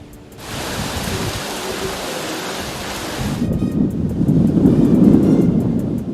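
Heavy roaring wind and rain in Batanes, Philippines, make a steady broadband rush, shifting to a deeper gusting roar partway through, with no speech.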